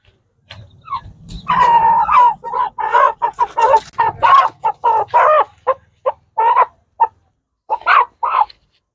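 A chicken clucks in repeated short, loud bursts close by, with a brief pause near the end before a few more clucks; no one speaks.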